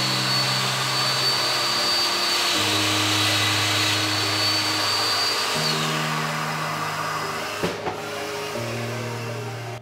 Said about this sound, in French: je suis branché en automatique sur mon aspirateur. Donc dès que je vais commencer à fraiser, il se mettra en route.